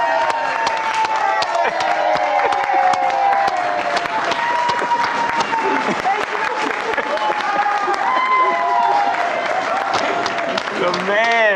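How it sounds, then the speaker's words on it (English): Office staff in a newsroom clapping and cheering during a live sports show stream, a steady wash of applause with whoops and several voices talking loudly over it throughout. "I saw hands clapping in the back corner of the office."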